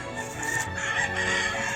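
Old roosters in breeding pens on a Georgia bird farm crow loudly and close, one drawn-out cock-a-doodle-doo over a steady hum of other fowl.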